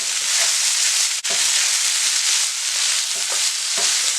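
Chicken fried rice tossed in a pan over high flame, giving a loud, continuous sizzle and hiss with brief breaks where the pan is lifted and tossed.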